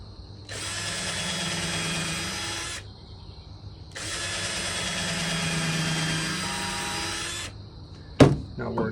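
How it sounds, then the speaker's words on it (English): Cordless power drill pre-drilling a cedar board for a grape vine trellis: two sustained high whining runs of a few seconds each with a short pause between, close up, ending in a sharp knock. "I like the pre-drill through cedar."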